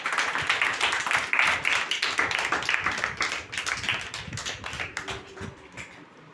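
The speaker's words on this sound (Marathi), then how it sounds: "टाळ्या वाजवा" A group of people claps in quick, uneven bursts of close hand claps at an orphanage birthday celebration, with the clapping tapering off toward the end.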